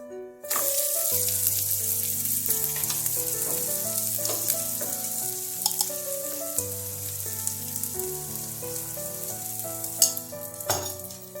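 A radish filling fries in a pan with ghee or butter for paratha, giving a loud continuous sizzle with occasional stirring scrapes, close up and without talk.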